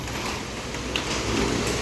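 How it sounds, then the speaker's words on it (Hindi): Heavy rain falls steadily at night in India, a dense, even hiss that stays constant throughout. "काफ़ी ज़्यादा बारिश हो रही है,"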